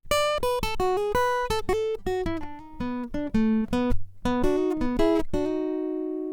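Solo guitar plays a bluesy phrase of plucked notes and slides, pausing briefly before a final sustained note rings out, close and clear.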